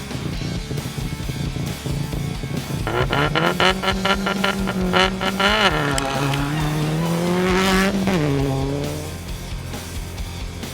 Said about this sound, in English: The 7th-seeded Michel Saleh and Ahmed Ghaziri in a Subaru Impreza N15 would be the third team to